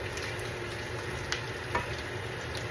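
Onion sizzling in oil in a frying pan on a home stove, a steady close crackle with a few brief louder pops and no talking.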